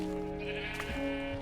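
A sheep in the Minecraft video game gives a short bleat, a single clear wavering cry from the game's sound effects.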